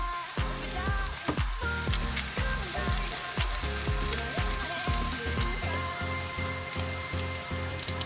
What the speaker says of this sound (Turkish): Yağlarımız erimeye devam ediyor.